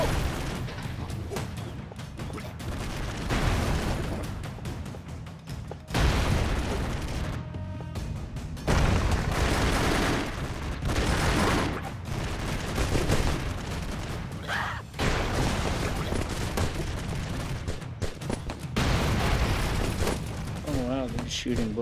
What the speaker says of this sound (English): Shooting bullets everywhere.